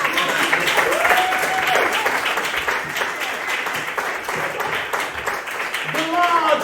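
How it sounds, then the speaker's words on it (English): Theatre audience at a live comedy musical performance clapping and shouting together as a baying crowd, loud and sustained, with yelling voices rising over the applause near the end. "would you be able to play our baying crowd for us?"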